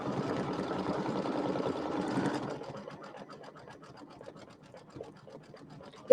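An embroidery machine stitching satin stitches, a close, fast mechanical buzz for about two seconds that drops to a quieter rhythmic ticking and hum, ending in a small sharp click.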